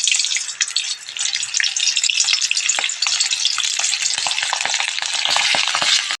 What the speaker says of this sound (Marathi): तेल गरम झालंय मी यामध्ये थोड्या मिरच्या तळून घेते